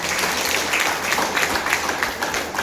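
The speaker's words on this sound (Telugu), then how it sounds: "మీరు ఒకసారి గ్రాండ్ క్లాప్స్" An audience at a business meeting claps together in steady, continuous applause that neither builds nor fades over a few seconds, with no talking.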